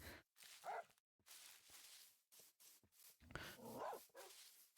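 A dog in the video game Minecraft barks several times in short separate bursts, moderately loud and close, with brief gaps between the barks and no talking over them.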